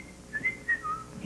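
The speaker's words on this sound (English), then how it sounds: "Whistle a song with that word in the title." A person whistles a short phrase of a song, a few clear, bright rising and falling notes over a quiet background.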